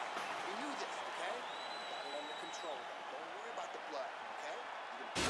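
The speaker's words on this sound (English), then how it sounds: "So the crowd voicing its appreciation after that round." Arena crowd at a UFC bout, the Sterling vs Yan rematch at UFC 272, applauding and cheering after the end of round one, a steady broad roar with commentators talking over it throughout.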